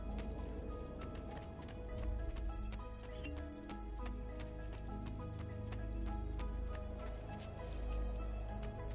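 Horse hooves clip-clop in the video game Assassin's Creed, a regular rhythmic stream of hoof taps over a steady background of game ambience and music, continuing for several seconds without speech.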